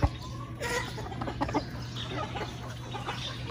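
Ayam Cemani chickens and their chicks cluck and peep at a poultry farm. The soft calls are steady and nearby, with a brief louder knock at the start and a low hum underneath.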